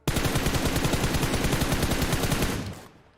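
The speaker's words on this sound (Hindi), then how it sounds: "तब इधर से गोली चली" Rapid automatic gunfire from a game rattles in a continuous burst of evenly spaced shots, loud and close, then stops abruptly near the end.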